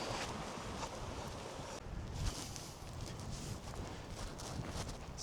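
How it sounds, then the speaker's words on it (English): Horses walk through a grassy field, hooves thudding in an uneven clip-clop rhythm close by, mixed with rustling and a breath of wind over a few seconds. "Some horses in this field."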